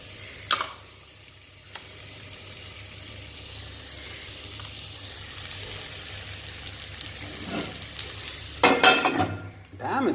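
Capsicum and a pinch of salt sizzle in a hot frying pan, a steady broadband crackle lasting throughout, with a couple of sharper bursts of spitting and clatter near the end; no one speaks.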